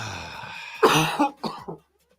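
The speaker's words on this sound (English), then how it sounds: "Lonzo is having a laughing/coughing fit to within an inch of his life" Lonzo in a laughing and coughing fit: a few sharp, loud bursts in quick succession after a quieter stretch, then silence.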